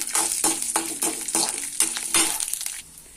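A spoon stirs lentils frying and sizzling in a pan for a Kerala thoran, with regular scraping strokes over a steady sizzle, close and fairly loud, with no talking.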